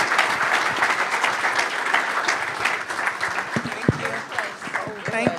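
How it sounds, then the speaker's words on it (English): A crowd at a women's basketball day event at Springfield College gives a loud, sustained round of applause, dense clapping filling the space, with cheers and voices mixed in throughout. "Give them a round of applause"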